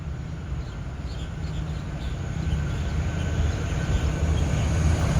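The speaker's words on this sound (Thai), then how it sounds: "รถจักร QSY แล้วเสียงเงียบมาก ทำขบวนด่วนพิเศษ ทักษิณารัตน์นี่" A quiet, steady low rumble of a QSY diesel locomotive hauling an express train, rising slightly as it draws nearer, with faint high hiss above.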